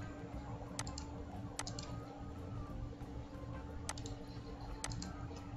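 Sharp computer mouse clicks while navigating a Microsoft Access database form, four crisp isolated taps spread over a low steady hum, with no talking.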